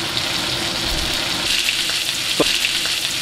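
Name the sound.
steak frying in butter with garlic and rosemary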